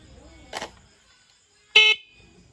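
Two short electric horn beeps from a Honda TMX 125 motorcycle, the second louder and sharper, separated by a quiet pause, with faint low rumbling in the background.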